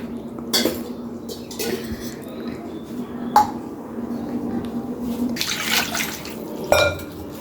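Pots and pans being scrubbed and rinsed at a kitchen sink, with clinks of metal utensils and running water through most of the stretch, and a few sharper knocks standing out near the start, middle and end.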